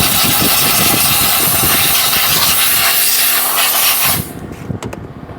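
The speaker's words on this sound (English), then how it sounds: "Now we're gonna steam it." A steam cleaner blasts a car interior with a loud, continuous hiss over a motor hum, close by, before cutting off abruptly near the end and leaving a quieter tail of clicks.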